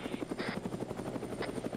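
An Arma 3 video game helicopter holds close and loud, its rotor blades chopping in a fast steady pulse over a constant engine drone, with brief higher tones flashing through.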